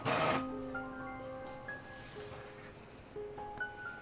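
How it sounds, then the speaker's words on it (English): A home printer runs a glossy sticker sheet through, a loud feed clunk at the start followed by steady faint whirring and shifting mechanical tones from the print head, with no voices. "And this is how it looks after my printer prints it."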